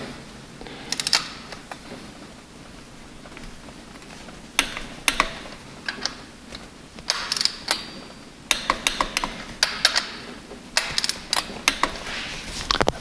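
A torque wrench gives final torque to valve cover bolts on a sludged engine, set to 21. Sharp mechanical clicks and ratcheting come in scattered bursts, close and fairly loud, with no talk.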